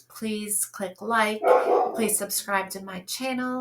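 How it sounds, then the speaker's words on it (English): A dog barks indoors in short yapping bursts, mixed in under a person talking steadily nearby. "that's the dog barking. He's barking,"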